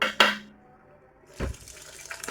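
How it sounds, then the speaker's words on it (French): Hot water is poured into a pressure cooker while making chorba frik barley soup, a brief close splash followed by a short quieter gurgle after a pause. "Alors là, je vais mettre de l'eau chaude."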